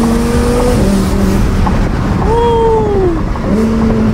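1000 hp twin-turbo Lamborghini, loud and close, its engine pitch climbing through gears with shifts and rising revs over heavy road and wind rumble.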